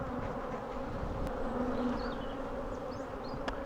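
Honeybees from a defensive, hot-tempered hive hum in a steady, dense drone around the open box while it is being smoked, with occasional single bees zipping close past.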